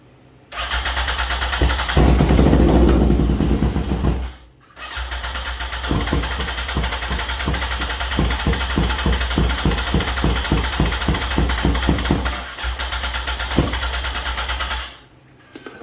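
A 2005 Yamaha R1 motorcycle engine cranks over and over with a fast rhythmic chugging, sputtering and straining to catch before cutting out, loud and close.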